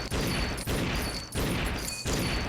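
Rapid gunfire from the Gunman character in the Secret Ponchos video game, a loud, dense burst of shots running in roughly four bursts separated by short gaps.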